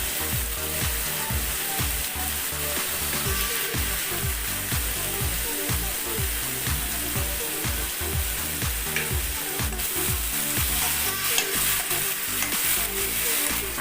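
A pinch of asafoetida hits hot oil in a pan for an egg curry masala and fries with a steady, continuous sizzle while a spoon scrapes in a regular rhythm, close and even throughout, no talking.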